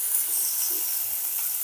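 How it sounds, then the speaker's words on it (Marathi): Chopped onion sautés in hot oil with garlic and curry leaves for a potato and pea dry curry, giving a steady, close, even sizzle that holds without a break. "कांद्याला सुद्धा छान गोल्डन ब्राऊन कलर येईपर्यंत तेलावर परतून घ्यायचंय आपल्याला."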